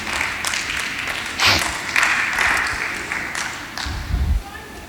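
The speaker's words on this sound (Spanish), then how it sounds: "Dele palmas a Dios y puede tomar su asiento." A church congregation claps together, a dense burst of applause under a preacher's voice, with a few louder thumps near the end.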